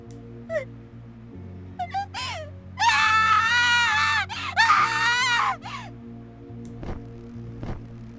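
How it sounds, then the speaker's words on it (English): A female character in the Japanese-dubbed horror video game Death end re;Quest 2 lets out a loud, high-pitched, wavering scream lasting a few seconds, with short cries and game music before and after. "Vina responded in a high-pitched scream, flailing out like a woman possessed."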